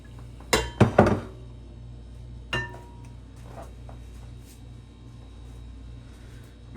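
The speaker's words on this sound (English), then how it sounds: "We're going to transfer it to a glass Pyrex." A glass Pyrex bowl clinks and thunks near and sharp during bread dough handling: a quick cluster of three knocks, then a lone clink, then faint small taps under a low steady hum.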